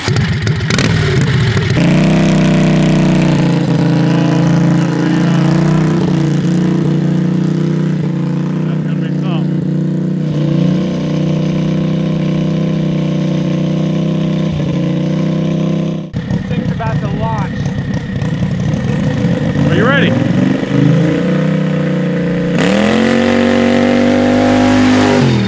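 A 50 hp 670cc drag rail kart engine revs hard and launches, its loud, steady, harmonic drone rising and dipping in pitch over several bursts, with voices shouting over it.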